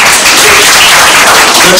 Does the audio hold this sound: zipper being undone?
no